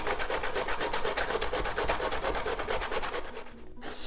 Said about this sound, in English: grab the potato, get the grater going, and just start grating away